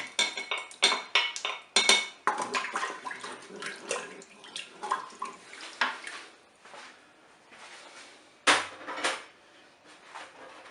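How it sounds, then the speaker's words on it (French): Onions are dropped into the broth of a Cookeo multicooker pot while cooking mackerel, giving close clattering of metal and utensils with liquid splashing and stirring, busy at first and thinning out, with one sharp knock near the end. "Je vais plonger maintenant les oignons."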